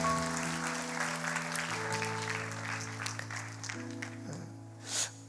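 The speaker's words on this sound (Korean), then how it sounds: "다시 한번 모든 영혼을 박수로 하나님 앞에 올려드리겠습니다" A church congregation claps together in worship, a steady wash of applause sustained over organ-like held tones, fairly distant and roomy, swelling briefly near the end.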